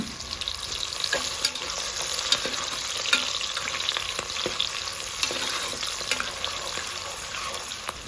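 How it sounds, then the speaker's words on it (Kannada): Sliced onions frying with cinnamon, cloves, cardamom and bay leaf for tomato rice, giving a strong, continuous sizzle with light stirring clicks and crackles throughout. "2 ಈರುಳ್ಳಿನ ಕಟ್ ಮಾಡಿ ಹಾಕ್ಕೊಳ್ಳಿ. ಫ್ರೈ ಮಾಡಿಕೊಳ್ಳುವ."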